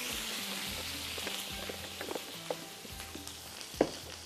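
Steady hiss of frying in Soya Supreme olive cooking oil for a masala kulcha filling, with scattered light clicks and stirring knocks from the pan, moderately close and with no voices.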